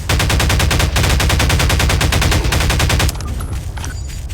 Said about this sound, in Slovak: Musím vás odstreliť.